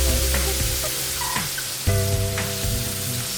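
Sliced onions for bhindi do pyaza stir-fried in a pan give off a steady close sizzle, with a few scraping stirs and no voices.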